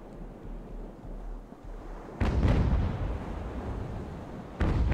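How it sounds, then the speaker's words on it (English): Naval cannon bombardment in the Ultimate Admiral: Age of Sail game, heavy booming blasts rolling out over a constant windy, watery background, with a second burst of cannon fire near the end. "Let's see if we can bring the Ceres over and maybe start bombarding these guys."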